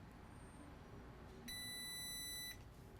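A multimeter probing a shorted diode gives one steady continuity beep lasting about a second, faint against a low background hum.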